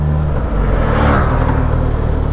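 A Suzuki GSX-S 950 four-cylinder motorcycle engine revs loudly and close, a dense continuous roar with a slight swell in the middle and no voices.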